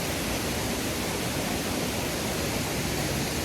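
Kravica waterfall in Bosnia and Herzegovina roars as a dense, steady wash of rushing water, loud and close, with no voices over it.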